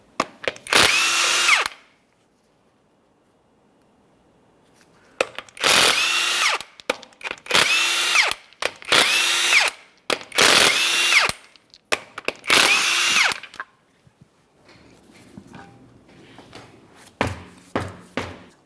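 A power tool spins off 21mm lug nuts from the front wheel of a 2004-2008 Ford F-150 in six loud, close buzzing bursts separated by brief pauses, followed by faint clinks and handling noises.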